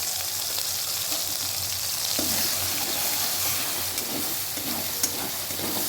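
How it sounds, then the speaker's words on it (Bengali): Ground spices and scraped masala cooking in oil in a pan for chicken chaap, a loud, steady sizzle with faint stirring scrapes and no voices. "সমস্ত কিছু একসঙ্গে এই তেলের মধ্যে দিয়ে দেব দিয়ে কষাতে থাকবো"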